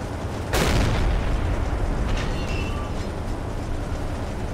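Enemy ship gunfire and shell explosions in the submarine game Silent Hunter 3: one sharp, loud boom hits after a quiet start, followed by a lingering rumble with fainter distant bursts over steady low background noise.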